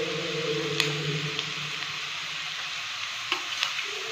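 Ginger garlic paste and chilli powder stirred in a frying pan for ghugni, a soft steady sizzle under faint clicks of a spoon against the pan.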